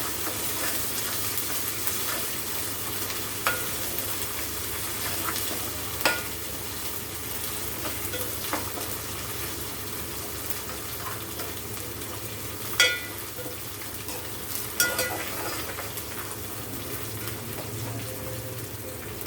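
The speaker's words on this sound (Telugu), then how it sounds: "అల్లం వెల్లుల్లి పేస్ట్ కూడా బాగా ఫ్రై అవ్వాలి." Ginger garlic paste fries in a pan for a fish curry, giving a continuous sizzle with occasional sharp stirring clinks and scrapes rising above the steady hiss.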